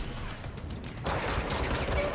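Gunfire from the video game Control comes as a dense, continuous rattle of rapid shots that grows louder and fuller partway through.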